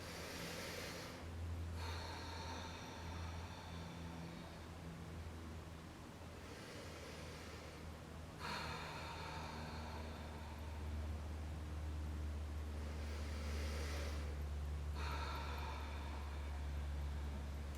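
Slow, deep breaths during a yoga pose sound as a steady, airy rush of inhaling and exhaling, with brief pauses roughly every six seconds, close and soft against a constant low background hum.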